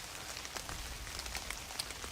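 Steady rain falls in a virtual hunting video game, a dense continuous patter with scattered distinct drops, fairly quiet and without speech.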